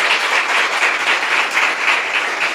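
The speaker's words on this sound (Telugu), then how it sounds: "చప్పట్లు కొట్టండి సార్." A church congregation at a Telugu Christian service applauds together, making a dense, continuous wash of clapping that holds at an even level throughout.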